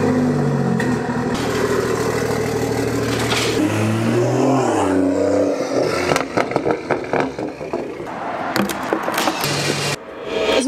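A BMW M140i drives and revs, its engine note climbing and falling in repeated sweeps, then breaking into rougher, choppier bursts with scraping and clattering noises, loud and close throughout.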